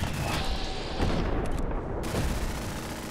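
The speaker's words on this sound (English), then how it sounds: "Hey, he's trying to shoot at me." Sustained gunfire crackles in Sim Settlements Conqueror, the Fallout 4 settlement mod, as a dense, continuous volley of shots with no pause, loud and close throughout.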